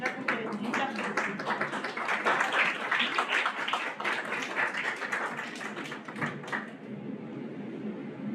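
Audience applause at a public speaking talk, dense clapping from a crowd that swells, holds, then tapers off, close and loud.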